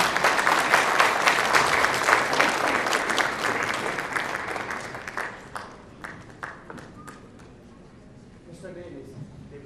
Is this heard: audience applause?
yes